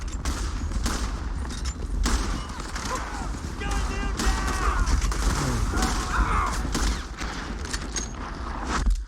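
Rapid gunfire in the old west video game Red Dead Redemption 2, repeated sharp shots and volleys over busy game noise, with a voice shouting through parts of it.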